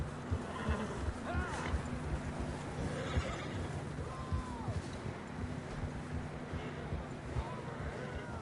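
A horse in the Red Dead Redemption 2 video game whinnies several times amid hoof clip-clop and wind noise, with voices talking in the background.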